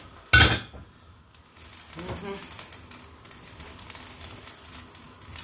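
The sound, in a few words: closing the lid of a cooking pot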